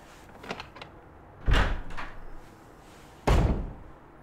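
Door sounds in the Resident Evil HD survival horror game: a soft clack, then a loud heavy thud as a door opens, and a second solid slam closing it a couple of seconds later, close and prominent.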